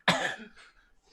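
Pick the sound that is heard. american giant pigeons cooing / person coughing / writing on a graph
person coughing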